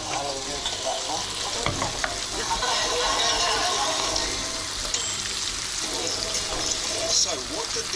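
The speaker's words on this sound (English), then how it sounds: "stirring on a high heat in a non-stick frying pan" Scrambled eggs stirred over high heat in a non-stick frying pan, a steady close sizzle with scraping stirs running throughout.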